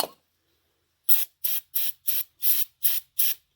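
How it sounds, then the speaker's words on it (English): A faint click, then seven short hissing bursts of brake cleaner sprayed onto a serpentine belt pulley of a 2003 Chevrolet Silverado Duramax, in a quick, even rhythm, close by. "Just spray that pulley off, and that'll clean up any oil on the pulley."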